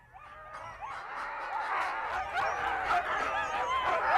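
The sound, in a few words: husky sled dogs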